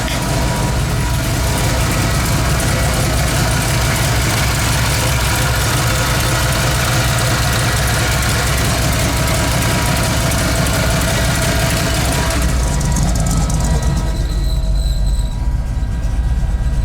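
A 1985 Ford 302 V8 in a Bullnose truck, fitted with copper header gaskets and free of exhaust leaks, idles with a loud, steady rumble that holds throughout, easing slightly near the end.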